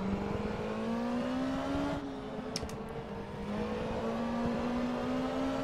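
Steady engine drone of a P2 race car in the racing game rFactor 2, Zytek 07S endurance mod at Paul Ricard, holding a loud continuous tone that dips briefly as another car sweeps past.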